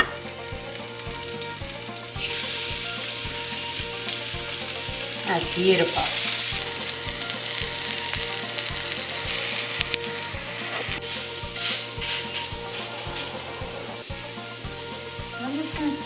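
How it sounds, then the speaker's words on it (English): Steady sizzling of salmon cooking on a hot grill, close and continuous, with a brief spoken remark partway through. "When you put the salmon on the grill, it should sizzle."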